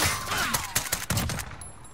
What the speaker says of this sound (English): You shot at us, so I shot back.